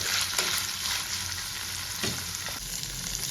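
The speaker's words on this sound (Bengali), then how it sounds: "পনিরগুলো আমি ভেজে নিচ্ছি।" Paneer pieces frying in a pan for a vegetable korma, a close, continuous hiss of hot oil with a few soft stirring knocks.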